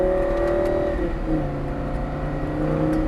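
A Lamborghini Gallardo supercar pulls away after an upshift on a track day, its engine note droning steadily and rising in pitch as it builds speed, heard from close by with constant loudness throughout.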